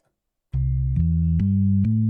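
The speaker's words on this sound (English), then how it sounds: "And the last walking bass sounds like this." Walking bass line on a Hammond organ: four sustained, stepping low notes in even rhythm, full and close, with no one talking.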